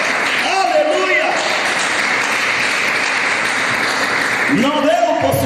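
A church congregation breaks into steady applause, a broad hiss of many hands that holds evenly in the middle, with singing or voices surfacing at the start and again near the end.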